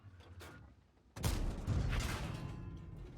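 A Chrysler K heavy tank's main gun fires in a video game replay, one sudden loud boom followed by a rumbling, reverberating roar that fades slowly, with faint mechanical clatter before it.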